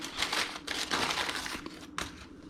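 Parchment paper crinkles and rustles around a 120 gram ball of egg pasta dough, a close, busy crackling that runs almost continuously with a few sharper crumples and short pauses.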